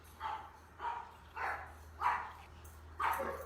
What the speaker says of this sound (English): there's other dogs barking